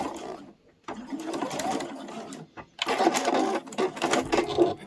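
A domestic sewing machine back stitching patchwork with a patchwork foot, its motor running in close, loud bursts broken by short pauses.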